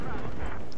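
A flashbang grenade bursting in Battlefield 4's Siege of Shanghai map, a brief, loud, dense concussive blast filling the whole clip at close range.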